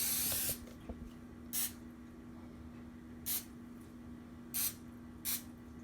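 Cooking spray misted onto a baking pan in a home kitchen while making banana bread, four short separate hissing bursts spaced about a second apart, quiet and close over a faint steady hum.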